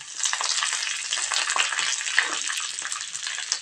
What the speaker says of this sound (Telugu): బ్రౌన్ కలర్ వచ్చేదాకా వేయించుకుందాం.